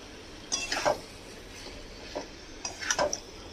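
Cluster beans being mixed in a pan with a utensil, producing two short bursts of scraping and clinking separated by a quiet pause, fairly faint and close.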